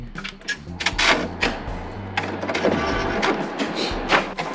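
An Epson inkjet printer runs a power cleaning cycle, its mechanism producing close clicks, clunks and short motor whirs over a low hum, in irregular bursts without speech.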